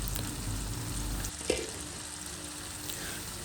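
Chicken sizzling steadily in a pan while being cooked for soy sauce chicken fried rice, a continuous loud hiss broken once by a brief clank of a utensil.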